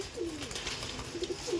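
Pigeons coo softly in short repeated phrases over light outdoor background noise, a few birds nearby as they are readied for release.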